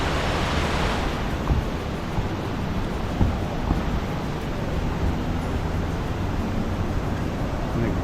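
Floodwater thunders down Khlong Lan Waterfall in a steady, dense broadband roar, loud and continuous throughout with no talking.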